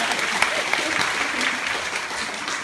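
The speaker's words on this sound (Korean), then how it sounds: "박수 한번 칠까요?" A theater audience at a Korean musical performance applauds, a steady, moderately close wash of many hands clapping with a few sharper individual claps standing out.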